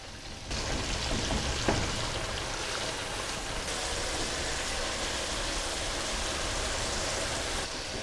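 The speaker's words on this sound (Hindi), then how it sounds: "इन स्पाइसेस को हम अच्छे तरीके से मिक्स कर लेंगे और ऑयल में भून लेंगे।" Ground spices, chili powder, cumin and turmeric, fry in hot oil for a cauliflower sabzi, giving a loud, steady, dense crackling hiss that runs almost unbroken from start to finish.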